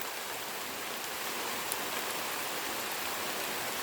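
Heavy rain pours down in a steady, dense hiss, close and loud throughout, with no voices.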